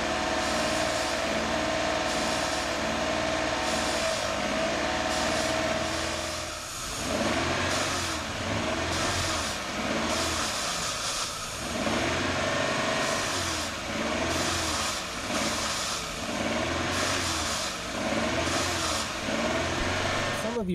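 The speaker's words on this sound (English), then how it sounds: "Give it a little bit more gas, baby." A car engine revs repeatedly in rising and falling surges as a cleaning chemical is misted into the intake and throttle body, with a person talking over the steady idle before the revving begins.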